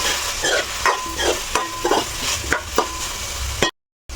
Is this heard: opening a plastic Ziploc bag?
no